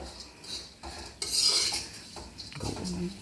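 Bitter gourd fries in a pan while being stirred, with a metal spoon scraping and clinking against the pan in irregular strokes over a soft sizzle.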